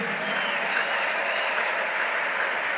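A church congregation applauds during a sermon, a steady dense wash of clapping from many hands that holds at an even, fairly loud level throughout with no break.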